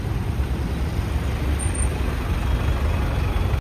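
Loud, dense road traffic rumbles continuously close by, a broad steady wash of engines and tyre noise with no clear pauses.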